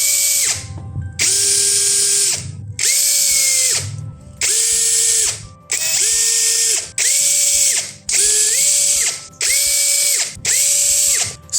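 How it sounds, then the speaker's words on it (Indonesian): A power screwdriver backs out T10 Torx screws from an Anvil Hex Lucid LH-500 motorcycle headlight, firing about eight loud, evenly spaced whirring bursts with ratcheting clicks and short pauses between, and no voices. "Oke, kita lepas dulu untuk baut-bautnya."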